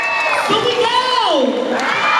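A crowd of children shouts and cheers loudly at a Little Miss Ilocos Norte pageant awards night in San Fernando, La Union, a sustained shrill roar of many voices with rising whoops.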